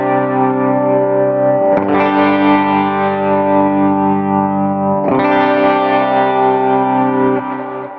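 A sustained electric guitar chord on a clean tone rings through an HX Stomp amplifier trim effect, with a wavering, modulated tone; the chord is restruck once midway and rings on before fading.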